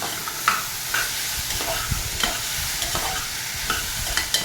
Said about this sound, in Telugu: దీన్ని ఒక నిమిషం బాగా కలతిప్పుదాము